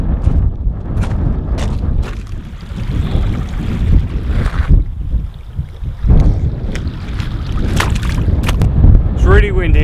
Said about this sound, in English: It's really windy and really cold